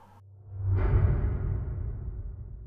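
A cinematic whoosh hit washed in deep plate reverb with everything above the low end rolled off, a dark rising swell that blooms into a long, muffled rumbling tail, heard alone.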